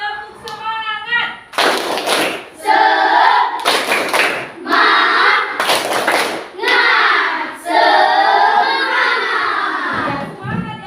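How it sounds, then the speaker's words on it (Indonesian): A classroom of schoolchildren does a rhythmic spirit clap, with several loud bursts of group clapping alternating with the children chanting and shouting together, all close and lively. "Sekali lagi tepuk semangat."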